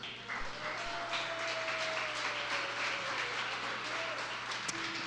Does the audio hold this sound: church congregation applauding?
yes